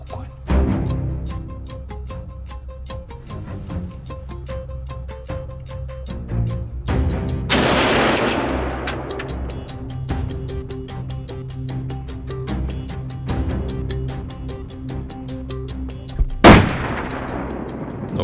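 Two sharp rifle shots ring out during a driven wild boar hunt, each a loud crack with a trailing echo, spaced several seconds apart over a low outdoor rumble.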